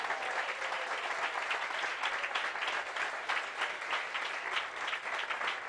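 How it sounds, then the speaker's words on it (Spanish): Steady applause from an audience at the close of a talk, a continuous even patter of many hands clapping, moderately distant and without pause. "yo creo que merecen un aplauso grande"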